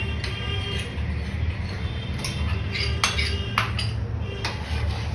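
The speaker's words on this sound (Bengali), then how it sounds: "এটাকে ভালো করে নাড়তে হবে।" A spoon clinks and scrapes inside a pot as milk and soaked rice are stirred for a rice pudding, with a few sharp metallic taps over a steady low background hum.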